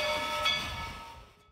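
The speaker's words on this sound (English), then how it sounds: "Then they back the train down the siding, and you can see it come right by." A narrow gauge steam train backing down a siding at an authentic steam railroad rolls close by, a loud hissing rumble of cars and wheels that fades away over a second and a half.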